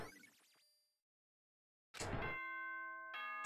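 A bright multi-tone chime from the video game Danganronpa rings out clearly after a brief silence, its sustained bell-like notes holding steady and then restarting near the end, with no talking over it.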